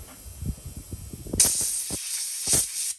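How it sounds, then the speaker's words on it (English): Air compressor blowing excess oil off a salvaged generator part, two loud bursts of hissing air, the first starting after a stretch of clicking and handling noise, the second shorter near the end. "now we'll just give it a bit of a blow off with the air compressor"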